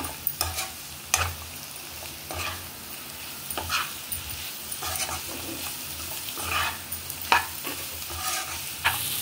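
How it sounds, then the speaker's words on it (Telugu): An egg garlic roast with coriander is stirred in a sizzling pan, a spatula scraping and clinking in repeated strokes over a steady close frying hiss. "కొంచెం కొత్తిమీర, ఒకసారి కలిపేద్దాం ఇవన్నీ కలిసేలాగా."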